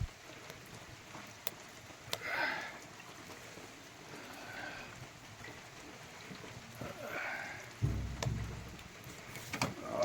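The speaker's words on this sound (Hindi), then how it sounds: "बारिश रुकने का नाम नहीं ले रही है।" Steady light rain patters on a courtyard in Uttarakhand during a continuous downpour, with a few louder drips and a brief low rumble near the end, no voices.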